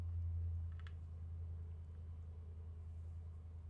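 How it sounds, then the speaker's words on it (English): A deep, steady low rumble from a truck or engine outside, strong enough to shake a house, drones continuously throughout, with a couple of faint clicks over it and no voices. "It sounds like a truck winding down its motor or something outside, but it's actually shaking my house."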